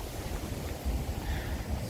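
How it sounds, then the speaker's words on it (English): Strong gusty wind buffets the microphone outdoors, a continuous low rumbling roar that swells and dips throughout, with no voices over it. "it's really windy today."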